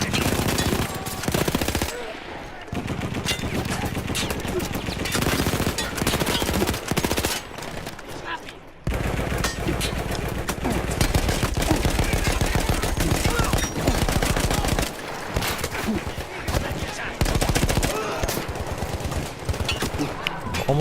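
Rapid, sustained machine-gun fire from a mounted gun in Battlefield 1, once crewed by Austro-Hungarian troops, rattles loud and close in long bursts with brief pauses between them.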